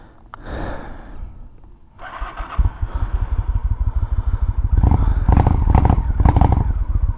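A carbureted 1998 Honda Shadow Ace motorcycle engine cranks briefly, then catches and settles into a loud, close, throbbing idle with an uneven rumbling beat that rises as it is revved.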